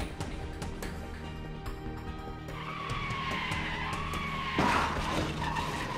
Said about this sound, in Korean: 달려오는 흰색 차량. 그야말로 무한질주. 공중회전만 수십 차례 후 결국 전복되고 맙니다.